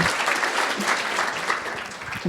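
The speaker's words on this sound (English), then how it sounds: "You clap, please." Audience applause at a breakfast panel for International Women's Day, a dense, steady clapping from a room of people that carries on for a couple of seconds at even loudness.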